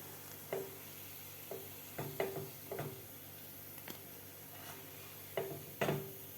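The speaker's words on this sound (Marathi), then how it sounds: "तर बाकीच्या सुद्धा राहिलेला आपल्याला अशा प्रकारेच शालो फ्राय करून घ्यायचे आहेत." Palak vadi, spinach fritters, shallow frying in a pan, giving a faint steady sizzle broken by a few soft, sharp clicks and taps of utensils against the pan, with no talking.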